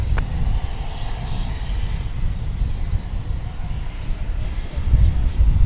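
A jet taking off from runway 18 Left at Dallas/Fort Worth Airport, heard as a steady, fairly loud low engine roar held throughout, swelling slightly near the end.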